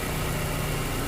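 A car engine idles at raised RPM after a cold start, a steady, even low hum with no change in pitch across the short stretch, heard close and alone.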